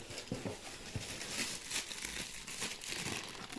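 Plastic bags holding giant lily bulbs crinkle and rustle continuously up close, a dense, crackling handling sound with no talking.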